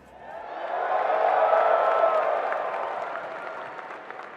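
An audience at a Guilty Gear fighting-game tournament breaks into applause, swelling to a loud sustained clapping from a packed crowd before slowly tapering off.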